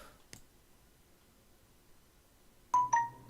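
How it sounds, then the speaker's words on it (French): A phone ringtone sounds near the end as a few short, clear electronic tones after a quiet stretch with a faint click at the start. "la bonne vieille sonnerie"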